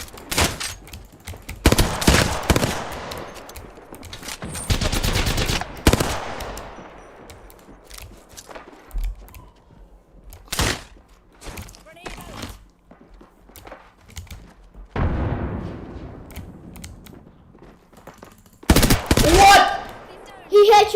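Bursts of gunfire while shooting an enemy in Apex Legends, with several loud clusters of rapid shots separated by quieter gaps and a dense final burst near the end; voices talk at times.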